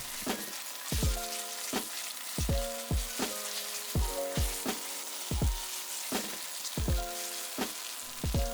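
A plant-based tomato beef macaroni soup base cooks in a pan, with a low simmering sizzle punctuated by steady, rhythmic knocks and clinks of a utensil against the pan, roughly one or two a second.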